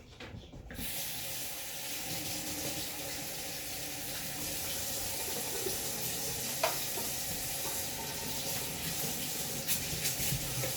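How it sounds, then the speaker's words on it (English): Water runs steadily from a tap while a blender is rinsed at a kitchen sink, a continuous close hiss with a few small knocks and splashes. "I'm just cleaning the blender."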